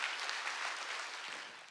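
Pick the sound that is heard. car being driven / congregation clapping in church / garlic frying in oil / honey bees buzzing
congregation clapping in church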